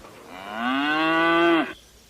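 A cow lets out a single long, loud moo that swells and holds steady before cutting off abruptly, heard close and with no voices.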